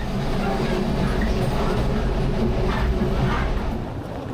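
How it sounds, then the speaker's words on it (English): A Soviet-built commuter train running between Podgorica and Bar at about 70 km per hour, a steady loud rumble and rattle of the carriage bouncing along the track, heard from inside, continuous throughout. "reaching a whopping 70 km per hour, although at these speeds the train does bounce around considerably"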